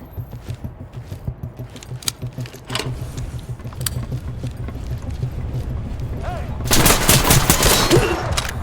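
Gunfire in the tactical shooter Ready or Not, with scattered sharp shots early on and a dense, loud volley near the end over steady game background noise.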